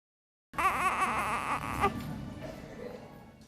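A newborn gives a weak, thin cry that starts abruptly, wavers briefly and then trails off into a faint, fading whimper.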